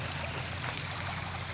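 Icy cold, clear mountain stream in Kumrat valley rushing steadily nearby, a continuous dense wash of flowing water with no voices heard over it.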